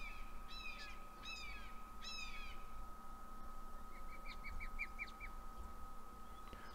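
A bird caws, likely a crow, a few hoarse calls in quick bursts followed by softer chirping, fairly faint over a steady hum.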